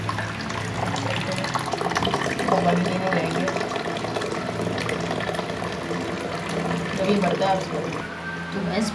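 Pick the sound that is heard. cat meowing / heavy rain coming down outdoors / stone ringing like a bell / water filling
water filling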